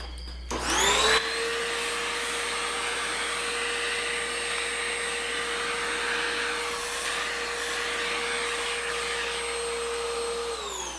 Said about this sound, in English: Okay, get out our vacuum.